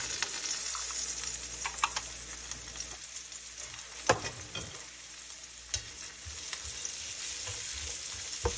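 Chopped garlic and green chillies fry in hot oil, making a continuous sizzle with occasional scrapes and knocks of a stirring utensil against the pan, close and moderately quiet.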